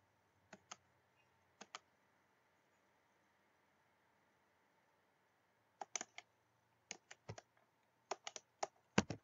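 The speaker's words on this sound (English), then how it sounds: "Keyboard clicks." Computer keyboard clicks on a PC running a Windows XP virtual machine, coming in isolated short bursts of a few sharp taps separated by silent gaps, then a denser run of typing near the end.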